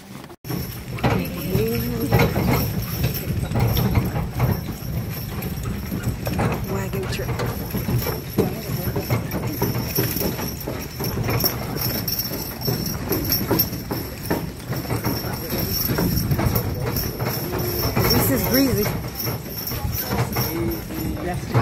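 Steady clip-clop of horse hooves on a hard road as a carriage rolls along, with people chatting over the rhythmic footfalls.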